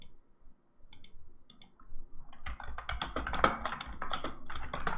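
Typing on a computer keyboard during an online hacking class, a quiet start building into a steady run of fast, close clicking keystrokes with no talk.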